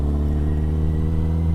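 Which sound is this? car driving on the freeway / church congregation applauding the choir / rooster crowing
car driving on the freeway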